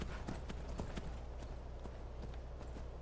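Horse hooves clip-clop in a fantasy video game, a quick run of sharp irregular hoofbeats at moderate distance over a steady low background hum.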